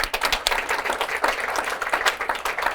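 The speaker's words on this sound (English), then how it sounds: "We can all give him an applause." Audience at a gala applauds, a steady wash of many hands clapping close and fairly loud throughout with no voices over it.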